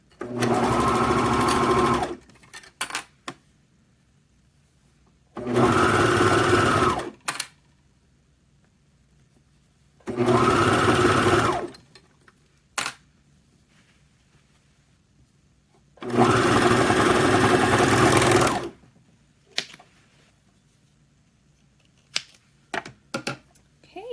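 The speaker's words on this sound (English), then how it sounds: "Now to the serger. Okay, now we're going to start stitching, again with a 1/2 inch seam allowance." A serger sewing machine stitches a 1/2 inch seam in four separate bursts, each a loud, fast, even whir lasting a couple of seconds. Quiet pauses between the runs hold faint clicks and fabric handling.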